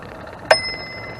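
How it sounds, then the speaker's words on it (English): A single bicycle bell ding rings out from a recumbent bike on a hike-and-bike trail, one bright, near strike fading quickly over quiet outdoor background noise. "with my bell to let them know I'm coming"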